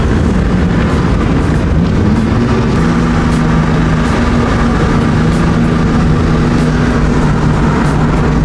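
A drifting car slides sideways around a track, its engine roaring loud and steady throughout with sustained high revving tones and a dense rumbling, gritty wash of tyre and road noise.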